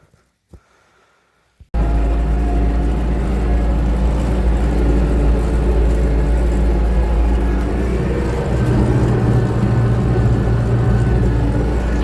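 An MTZ tractor engine drives out to a field for ploughing soybean stubble, a steady loud diesel drone starting abruptly after a short quiet moment and running continuously up close.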